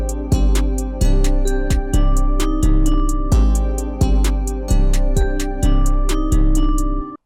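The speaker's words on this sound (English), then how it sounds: "You can hear it's like distorted, the sounds are not really balanced" A loud, heavily distorted, unmixed electronic beat with punchy kicks and sharp hi-hats, harsh and unbalanced, repeating in a steady pattern with no voices.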